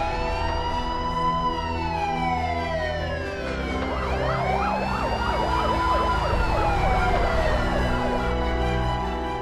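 Fire engine sirens wailing in response to a 2007 cold-storage warehouse fire in Icheon, rising and falling sweeps that overlap into a rapid yelp, loud and steady over traffic rumble.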